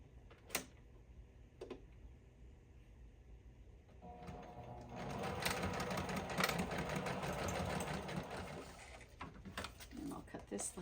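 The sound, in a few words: sewing lace onto a junk journal page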